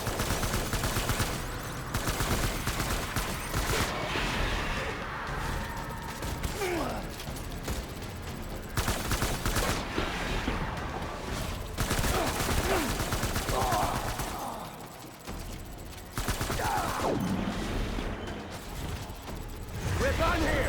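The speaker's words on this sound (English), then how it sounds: "Open fire." Gunfire in the video game Death Stranding, a steady, dense barrage of shots running almost the whole time with brief lulls, loud and continuous, with voices now and then.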